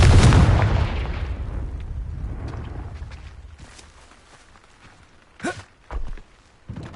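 Confringo blasting spell detonating in a wizard video game: a loud booming blast right at the start that rolls off into a long fading rumble, followed by a few smaller pops and thuds near the end.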